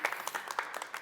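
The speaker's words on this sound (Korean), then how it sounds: "우리 감사의 박수" Audience applause at a Korean youth talk event, a short burst of scattered hand claps from a modest crowd, fairly soft and brief.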